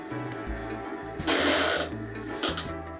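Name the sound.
White Knight tumble dryer drum barely turning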